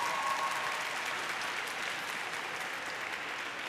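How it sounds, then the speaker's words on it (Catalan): Sustained applause from an audience at a university graduation ceremony, greeting the Human Biology graduates; dense, steady clapping from many hands, fairly distant and even, tapering only slightly toward the end. "Un aplaudiment per ells"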